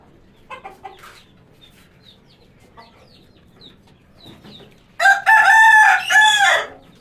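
On a rooftop poultry section, a few soft, scattered clucks come first, then a loud, close rooster crow takes over the last two seconds.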